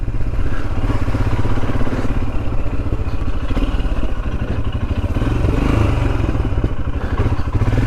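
A Royal Enfield Himalayan motorcycle rides down narrow Cornish country lanes, its engine thudding loud and close with a fast, steady beat and slight shifts in pitch as gears change.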